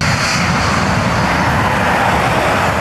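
Steady, loud broadband roar of a fixed-wing airplane's engines heard from inside the cabin during flight, continuous and even throughout with no voices.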